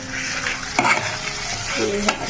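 Chicken kosha, chicken being fried down in a pan in a Kolkata home kitchen, a loud continuous sizzle with two brief scraping stirs of a spoon, no talking.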